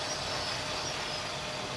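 LEGO toy trains, the Metroliner and the orange, white and black Horizon Express, run around a loop on a large model city layout, giving a steady, continuous rolling rumble and whir without pauses.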